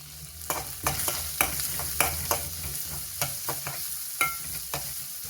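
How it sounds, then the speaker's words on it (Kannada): Green chillies and curry leaves fry in a pan while a spoon stirs them, giving steady soft sizzling with a dozen sharp scraping clicks at irregular intervals; close and moderately loud, no talking. "ಎಲ್ಲ ಚೆನ್ನಾಗಿ ಹಾಕ್ಕೊಂಡು ಫ್ರೈ ಮಾಡ್ಕೋಬೇಕು ನಿಧಾನವಾಗಿ."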